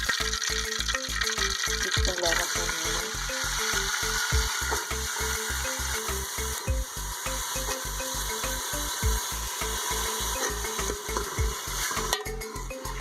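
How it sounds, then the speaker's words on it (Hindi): Two large chopped onions frying in a hot pan for a hotel-style aloo baingan sabzi, a steady loud sizzle under a regular clattering rhythm of stirring against the pan, with a voice speaking intermittently. "प्याज को हम लाइट ब्राउन होने तक अच्छी तरह से फ्राई करेंगे।"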